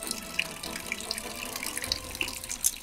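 Water running from a tap as a container fills, a steady close splashing stream with small bright plinks and gurgles throughout.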